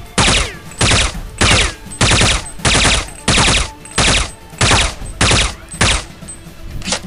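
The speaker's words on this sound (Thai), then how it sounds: "ต่อไปการยิงเป็นชุดนะครับ3-5นัดมาเรามาลองดูกัน" Gunfire in the first-person shooter CSPB (Point Blank) comes in loud, close bursts of a few rounds each, about ten evenly spaced clusters with short silences between them, and no voices.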